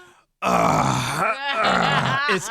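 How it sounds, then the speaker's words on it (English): A loud, close, drawn-out strained grunt and groan, like someone heaving themselves up, with no other sound around it. "it's the grunting, the noise"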